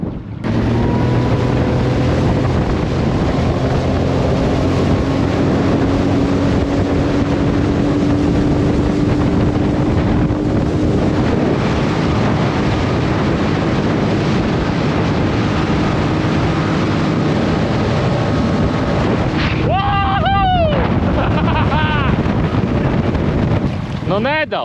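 Motorboat engine running steadily under partial throttle on a lake, a loud continuous drone mixed with heavy wind buffeting and water noise, with a brief burst of other sounds near the end.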